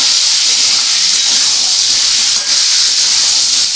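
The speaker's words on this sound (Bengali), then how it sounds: "এটা এখন ভালো করে আমি ভাজবো" Potatoes fry with poppy seed paste in a pan, giving a loud, steady hissing sizzle that runs continuously and close, with no talk over it.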